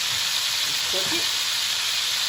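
Lamb chops frying in a pan, a steady close hiss and sizzle of fat running the whole time with a brief low murmur of a voice in the middle.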